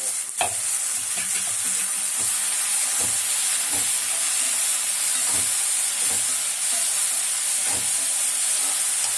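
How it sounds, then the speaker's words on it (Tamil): Onions and tomatoes sautéing in a pan for a Chettinad mutton liver masala gravy sizzle with a steady frying hiss, punctuated by regular scraping stirs of a spoon, close and continuous. "தக்காளி வெங்காயம் மட்டும் கொஞ்சம் நல்லா வதங்கணும்"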